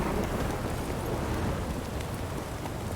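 Steady, heavy rain in The Witcher 3: Wild Hunt hisses evenly throughout, a dense wash with low rumbling beneath and no voices.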